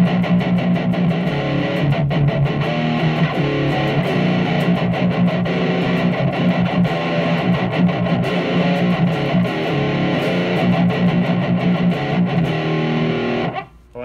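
A Washburn PX-Solar160C electric guitar played through heavy distortion with a Digitech Drop pedal and tuned low, chugging and ringing chords loudly and continuously before cutting off abruptly at the end.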